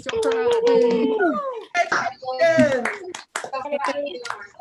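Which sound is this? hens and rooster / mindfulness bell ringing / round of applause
round of applause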